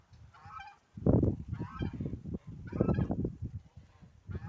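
Chickens calling up close in a freshly dug garden plot, a series of loud honking, clucking bursts in uneven clusters with short pauses between them.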